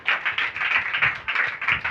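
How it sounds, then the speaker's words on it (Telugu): A church congregation claps during a sermon, giving a steady run of rapid, dense handclaps close by that holds for a couple of seconds with no talking over it. "చప్పట్లు పడదామా?"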